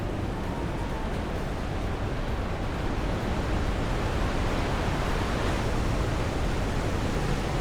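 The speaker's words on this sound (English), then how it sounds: "The falls are impressive enough from a distance, but it's almost too much now. They're very loud." Loud roaring waterfall in the Final Fantasy XIV Dawntrail game world, a steady, dense broadband rush filling the whole stretch without pause or speech.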